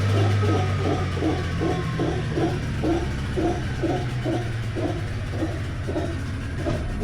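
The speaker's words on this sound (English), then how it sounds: "The engine just scared some monkeys, some howler monkeys." Howler monkeys in a rainforest clearing roar in a rhythmic, pulsing chorus after being startled by an engine, the repeated throaty calls carrying steadily from a short distance over a low engine hum.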